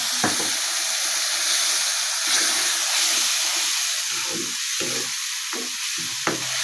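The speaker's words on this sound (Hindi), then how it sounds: "ये अब इसमें थोड़ा सा पानी डाल दूँ ताकि ये पक जाए।" Kadhi masala sizzles and bubbles loudly in a pan after a little water is added, with steady steam hiss and repeated scraping stirs throughout.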